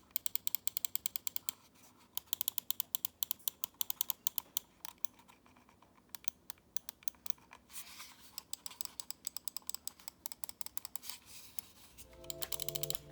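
Clicks from an EWEADN GS01 computer mouse's buttons come in quick, sharp, close-up runs and irregular clusters, fairly loud against a quiet background.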